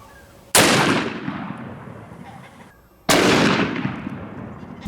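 Two loud, sharp shots from a .460 S&W Magnum revolver firing 250 grain Xtreme penetrator rounds into pine boards, about two and a half seconds apart, each with a long ringing decay and no talking.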